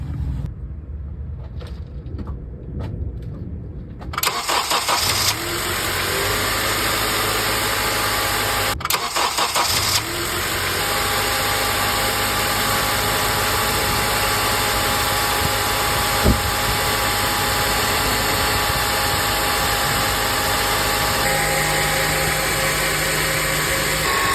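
A 2011 Honda CR-V, with the AC bypassed and its original belt fitted, cranks and starts, then settles into a steady, loud, close idle.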